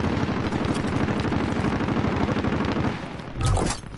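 A video game gun fires in rapid, steady automatic bursts, loud and continuous, then a heavier blast booms out just before the shooting trails off.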